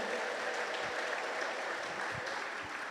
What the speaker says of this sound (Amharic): አጨብጭቡና ለጌታ ክብር አምጡ።